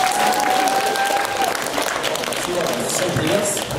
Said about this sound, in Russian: давайте громче похлопаем